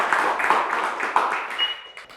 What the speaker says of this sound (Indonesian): Boleh tepuk tangan sekali lagi untuk Stephanie Wijaya.